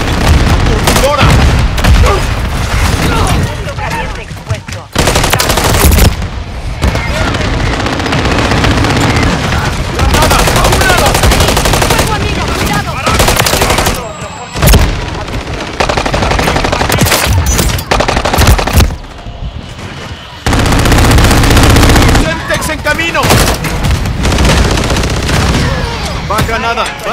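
Gunfire and explosions in the video game Call of Duty MW3 form a loud, dense, nearly unbroken barrage of rapid automatic fire with booming blasts and only brief lulls.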